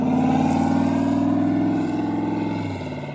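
Turbocharged mega truck engine held at a high, steady rev during a tuning pull on wastegate, a loud droning roar with a pulsing tone that slowly eases down toward the end.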